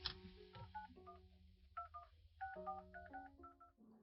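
A phone keypad beeps as a number is entered, a quick run of a dozen or so distinct dialing tones in an irregular rhythm, close and clear with no talking.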